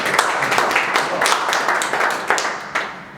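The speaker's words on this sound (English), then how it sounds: "We can give them a round of applause." Audience applause at an evening finance presentation, a steady wash of clapping from a seated crowd over three seconds with a few sharper individual claps standing out near the end.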